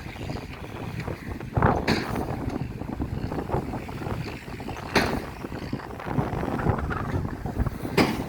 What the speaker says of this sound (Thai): ลมแรงมากเลยพี่น้อง